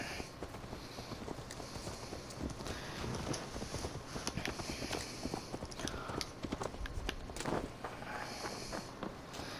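Horse hooves clip-clop at a steady walking pace in Assassin's Creed Valhalla, under constant wind and outdoor ambience, the hoofbeats blending into a continuous rhythmic patter.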